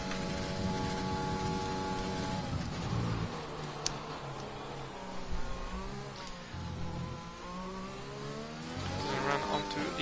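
An open-wheel race car engine revs and shifts on the Belgium track in an F8 sim racing league game, a loud, steady whine that rises and falls through gear changes, with faint engine noise behind it and no voices.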